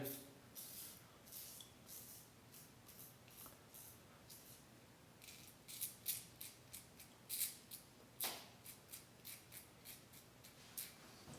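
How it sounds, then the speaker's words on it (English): A Parker 45R safety razor shaving lather off the face, a run of crisp, close scraping strokes that come faster and louder toward the end. "Pretty aggressive shaving, this razor and this blade."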